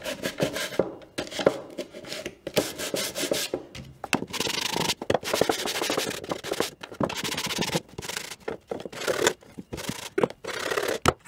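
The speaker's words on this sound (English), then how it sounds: "So I've got my 60 grit sandpaper." Rough 60 grit sandpaper rubbed by hand over wood in quick, uneven back-and-forth strokes, with short pauses between bursts, close and fairly loud.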